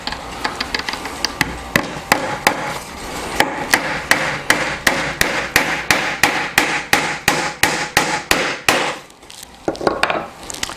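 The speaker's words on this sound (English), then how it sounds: "And then drive your nail, first nail on the top about a 1/2 inch down." A hammer drives nails into wood while building a manger, a long run of sharp, close, loud strikes in a steady rhythm with brief pauses between them.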